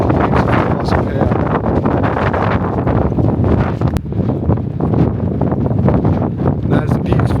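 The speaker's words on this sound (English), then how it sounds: "it's a bit windy" Heavy gusting wind buffets the microphone outdoors on a hilltop near a castle in Spain, a loud continuous rumbling roar that barely eases throughout.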